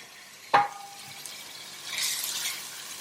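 Vegetables and rice with paste sizzle quietly in a pan, a sharp clink of a utensil early on, then a soft rising hiss of frying.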